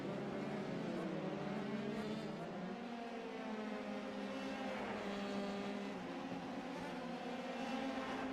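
Formula 3 race cars in an online sim racing game at Circuit de Nevers Magny-Cours drone steadily at high revs, several engine notes layering and shifting in pitch as cars run close together, moderately loud and continuous.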